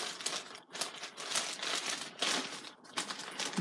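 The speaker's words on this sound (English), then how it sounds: "I'm putting it in this mailer." Item being packed into a mailer, close crinkling and rustling of packaging in irregular bursts with short pauses between handling noises.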